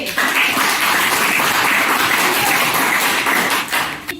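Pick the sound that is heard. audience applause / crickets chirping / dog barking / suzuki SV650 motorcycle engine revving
audience applause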